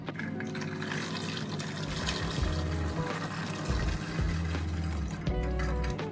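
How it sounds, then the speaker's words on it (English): Cider vinegar and an equal amount of water poured into a pan for hawthorn ketchup, a continuous close liquid fill with gurgling pulses throughout. "into the pan goes 480 millilitres of cider vinegar, and then the same amount of water"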